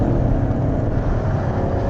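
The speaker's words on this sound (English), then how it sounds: "It's such an antidote, this engine, to all the downsized turbocharged engines that we get nowadays with their flat, blaring, tuneless soundtracks." A 2015 Chevrolet Camaro Z/28 engine revs hard, a loud, steady, dense mechanical roar that continues without a break.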